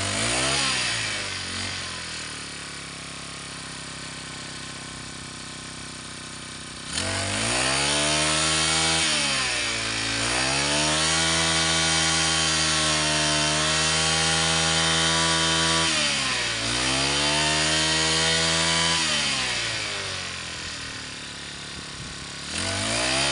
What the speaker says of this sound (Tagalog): ito yung kung gaano mo gusto kagalit yung makina, yung galit ng makina ito eh